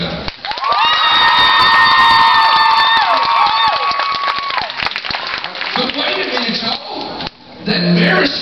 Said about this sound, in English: why don't you tell them by clapping how much, really truly girls, you want a man that's willing to stand up for God?